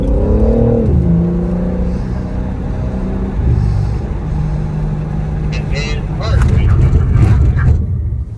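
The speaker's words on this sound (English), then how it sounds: "Right now we're doing the braking test, which is we're testing the ABS brakes in the car" A BMW M3 G80 accelerates with a steady, loud engine drone, then slows hard as an ABS brake test is run, the engine note shifting and a voice talking over it.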